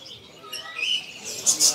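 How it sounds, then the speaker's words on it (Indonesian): A white turtle dove (puter putih) gives short high chirps that build to two louder closing notes, near and alone, with faint background noise. "Jadi puter ini puter putih."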